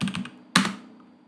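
Bursts of clicking keystrokes on a new computer keyboard, a quick cluster of taps followed by one sharper clatter, close and clear with no talking.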